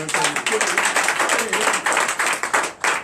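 A church congregation during a night of deliverance and prophecy claps rapidly and rhythmically, with voices calling out over the steady clapping.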